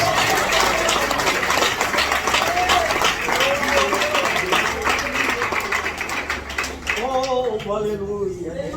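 A church congregation claps and cheers during a Pentecostal sermon, a dense, sustained wash of applause with voices mixed in, and a preacher's voice rising over it near the end.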